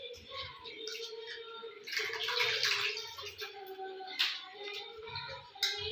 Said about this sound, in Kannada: ಈ ಥರ ನೀರು ಹಿಂಡ್ಕೊಂಡು ಪ್ಲೇಟಿಗೆ ಹಾಕ್ಕೊಳ್ಳೋಣ